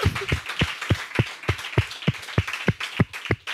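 Church congregation clapping in unison to acclaim the Lord, about a dozen sharp, evenly spaced claps at a steady rhythm, close and clear with no talk over them.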